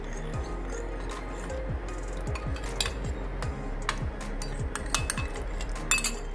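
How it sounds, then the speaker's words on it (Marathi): A spoon clinks and scrapes rhythmically against a pan while custard powder is stirred into boiling milk sweetened with condensed milk, steady repeated strokes with occasional louder taps. "कस्टर्ड पावडर घालून छान ढवळून घ्यायचं"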